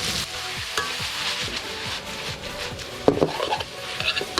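Pork for Thai holy basil stir-fry sizzles in a pan while being stirred and crushed, with repeated scraping strokes of the utensil and a few sharper clanks near the end, close and fairly loud.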